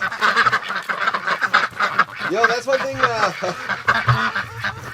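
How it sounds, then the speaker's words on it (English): Ducks and ducklings quack and honk close by in a busy cluster of calls, with a person's voice speaking briefly over them. "The ducks in here, I can hear the ducklings."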